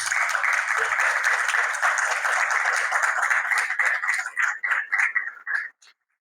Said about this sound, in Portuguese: o professor Wellington Bernardelli, a quem também peço uma salva de palmas